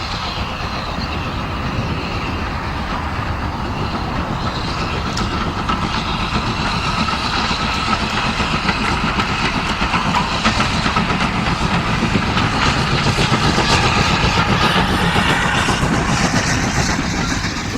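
The M7 30053 steam locomotive works across Corfe Common on the Swanage Railway, giving a steady, continuous rumble with rail clatter and wheel noise that holds at an even, moderately loud level with no voices.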